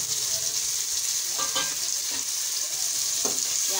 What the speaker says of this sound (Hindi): देखिए तेल गरम हो गया, अब हम इसमें प्याज डालेंगे।